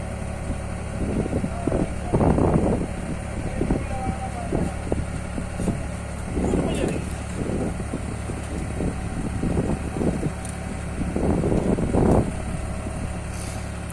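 A sugarcane harvesting machine with large hydraulic pressure jacks tips cut cane into a trolley, a steady loud engine drone with bursts of rushing, clattering cane and hydraulic strain rising and falling throughout.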